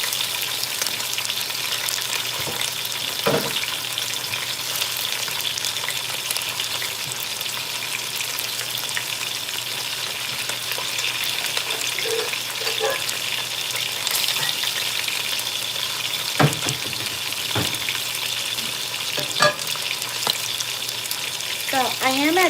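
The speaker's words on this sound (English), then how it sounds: "My meat's browning on the sides right now." Beef for a braise browns in a pan, putting out a steady sizzle and crackle throughout, with occasional clinks and handling noises over the frying.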